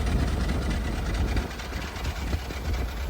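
A 1925 Model TT fire engine idles close by with the throttle reduced, a loud, steady low chugging that drops slightly in intensity partway through, with no talking.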